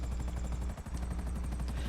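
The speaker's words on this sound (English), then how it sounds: "There's a helicopter hovering over him." A police helicopter hovers in the GTA V video game, its steady, rapid rotor chop and engine drone filling the whole stretch at an even level, with a brief dip midway.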